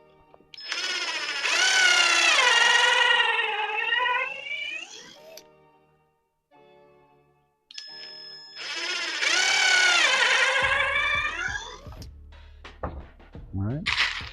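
Screws are driven into a wooden shadow box with a power drill, giving two long, loud whining runs with a short pause between them and a clunk near the end.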